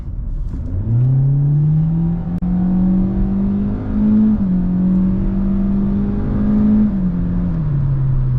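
A 2024 Hyundai Elantra base trim with a naturally aspirated 2.0-litre four-cylinder engine pulls hard in sport mode on a highway, its loud, steady drone climbing in pitch and then easing back, with no voices over it.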